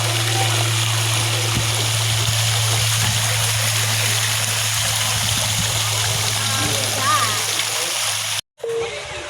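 A water fountain at a zoo's kids' adventure trail splashes in a loud, steady broadband rush, with voices talking over it.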